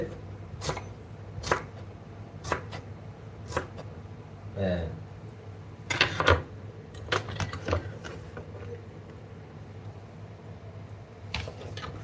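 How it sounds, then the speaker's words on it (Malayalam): Mango chopped on a board with a knife, a series of sharp, irregular knocks at close range over a steady low background hum, with a brief murmur partway through. "മാങ്ങ അരിയാൻ പോവാണ്"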